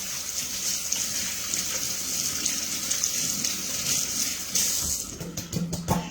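Kitchen tap water runs steadily with a hissing gush as hands are rinsed under it, continuous and close, with a few splashy shifts near the end.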